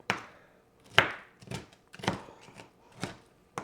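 A knife chops frozen broccoli, some still icy, on a board in a home kitchen: several sharp, irregular close-up chopping thuds over a few seconds, with no talking.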